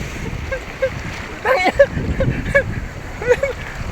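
Large sea waves splash and wash along the shore, with a few louder surges breaking through, while people talk and laugh close by.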